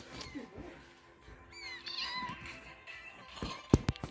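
Young kittens meow softly several times in a quiet room, thin high-pitched cries scattered among faint rustling and a couple of sharp knocks near the end.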